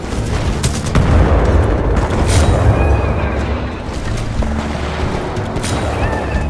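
A Mega Frag grenade going off in Titanfall 2, a loud, rumbling blast with scattered booms and gunfire-like crackles continuing over several seconds of busy battle noise.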